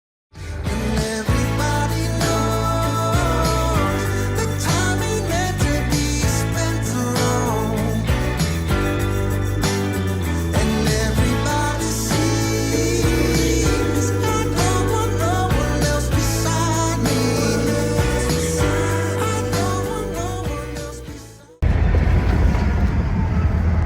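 Loud, steady rumble and rattle from riding aboard the Mile 1 Express train on the B&O line westbound out of Baltimore, continuous throughout before an abrupt shift in tone near the end.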